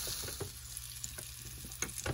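Steak cooking on the grill of a compact camper appliance, a steady close sizzle and crackle of frying meat running without a break, with a few faint clicks and taps over it.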